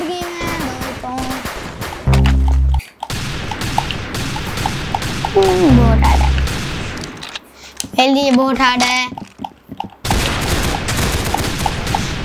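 Rapid bursts of gunfire from the ROBLOX Arsenal video game crackle in clusters, interrupted by short pauses and in-game effects, while a player speaks over the shooting.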